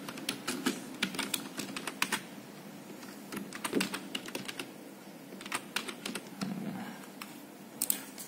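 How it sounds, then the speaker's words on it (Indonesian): Someone types steadily on a computer keyboard while working in PowerPoint, a close run of quick, uneven key clicks with brief pauses and occasional louder taps. "kita dengan mengetik seperti biasa, mengetik seperti biasa"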